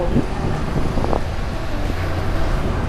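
Strong wind buffets the microphone in a constant low roar under a dark sky before a hailstorm in Hong Kong, with faint road noise underneath and no talking.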